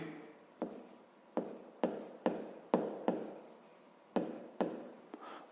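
Chalk or pen strokes writing out a formula by hand for a fifth-grade volume problem: a series of sharp, scratchy taps and short scrapes in uneven rhythm, close and fairly quiet, with no talk.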